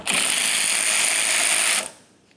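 A ratchet backs a 14mm nut off a front wiper arm on a 2009-2010 Pontiac Vibe with one continuous, close mechanical whir and clicking that runs for nearly two seconds, then cuts off into quiet.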